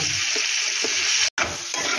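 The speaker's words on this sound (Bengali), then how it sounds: "পেঁয়াজটা ভাজা হয়ে গেছে, এবার আমি টমেটোগুলো দিয়ে দেবো।" Small chopped tomatoes sizzle loudly in a pan of fried onions, a dense steady frying hiss with soft stirring scrapes, briefly cut off by a short silent gap.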